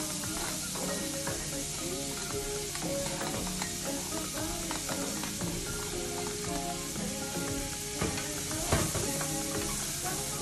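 Minced garlic, onions and peppers sizzling in a pan, a constant close crackle with scattered stirring clicks, set over faint background music.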